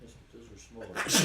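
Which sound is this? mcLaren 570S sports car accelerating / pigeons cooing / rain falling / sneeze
sneeze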